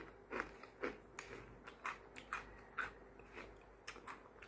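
A crunchy snack made only from gram flour, shaped into spiced rings, is bitten and chewed up close: a run of sharp crisp crunches in an uneven rhythm roughly every half second, with no talk.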